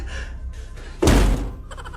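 A loud, close single thud of a person bumping hard into a door during a comedy skit, with a short resonant body that fades over a fraction of a second after quieter room noise.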